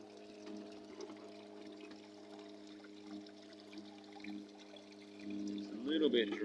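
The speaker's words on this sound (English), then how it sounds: "Water's on. Good flow." Water flows through a paydirt soil mix, a soft steady trickle over a constant low mechanical hum, growing busier and a little louder toward the end.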